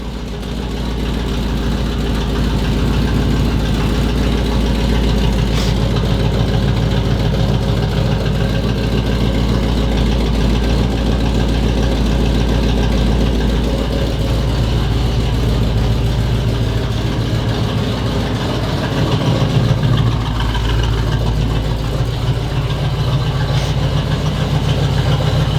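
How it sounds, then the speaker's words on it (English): A 1978 Chevy El Camino engine idling with an exhaust leak, a continuous loud low rumble with steady ticking pulses, close and unbroken throughout. "Got an exhaust leak back there."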